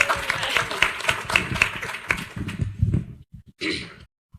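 A room audience claps at a data conference event, a steady patter of hands for about three seconds that fades out, with a brief voice and shuffle afterward.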